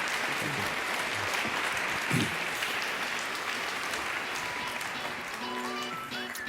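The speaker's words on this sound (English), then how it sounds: "So everyone, please, big applause for the all-star panel about digital transformation" A conference crowd claps loudly and steadily for a panel on digital transformation, the applause sustained throughout with faint voices and a brief tonal sound near the end.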